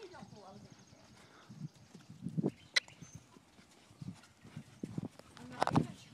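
Horse hooves clip-clopping on a rainy day, a few scattered hoof strikes at moderate distance amid faint background noise, with occasional brief voices.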